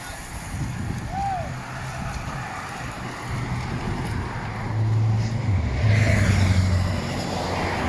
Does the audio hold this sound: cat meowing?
no